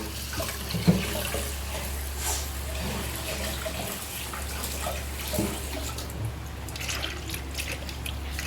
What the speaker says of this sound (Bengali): তাই চাল ধুয়ে নিচ্ছে।